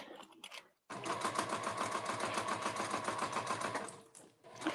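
A home sewing machine stitches steadily for about three seconds, loud and close, with a rapid even needle rhythm, starting and stopping abruptly with quiet handling sounds around it.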